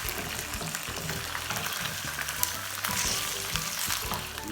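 Onions fry in a pan for Sindhi biryani, producing a dense, loud, continuous sizzle with faint crackles throughout and no talking.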